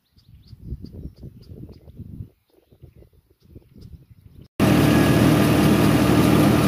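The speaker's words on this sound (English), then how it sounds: "Just kind of wanted to show you guys how the round baler worked." A tractor with a round baler works a hay field; faint outdoor rumble and insect chirps give way abruptly to a loud, steady engine roar close by.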